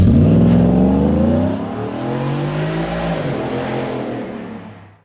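A 2018 Ford F-150 with an MBRP exhaust revs loud and close, a deep throaty growl that drops after the first blip, then wavers through a second swell and fades out.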